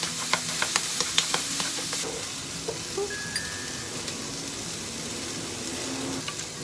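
Broccoli florets sizzling in a pan, a soft steady crackle opening with a quick run of sharp ticks and pops, then settling into a quieter, even hiss.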